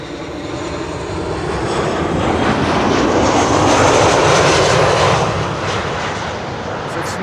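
An airliner arriving at Schiphol's Kaagbaan runway passes close by with a loud, broad engine roar that swells to a peak midway and then eases off.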